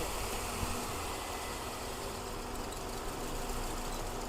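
Vehicle engine running after being started, a steady, fairly quiet rumbling idle with a broad noisy hiss and no voices.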